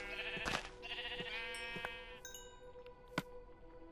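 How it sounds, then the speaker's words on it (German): Several sheep bleat in the video game Minecraft, a series of short, nasal, wavering calls, close and clear, with a few soft clicks in between and no talking. "Und darum töte ich jetzt erstmal schnell drei Schafe."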